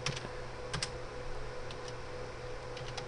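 Keys tapped on a computer keyboard while entering commands on a Cisco 2600 router, a few quick clustered keystrokes close by over a steady low electronic hum.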